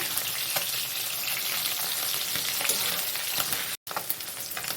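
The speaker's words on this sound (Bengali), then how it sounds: "মশলা পেস্ট করতে করতে মাছও প্রায় ভাজা হয়ে গেছে, উল্টে দিলাম।" Small mourola fish frying in hot oil for a spiced tel-jhal curry, a steady close sizzle and crackle running continuously with brief spatter bursts, cut off by a short dropout near the end.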